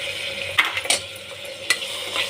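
Tomatoes with peas frying in a pan for rice bath, a steady sizzle under a few sharp spoon scrapes and taps against the pan, close up, without speech.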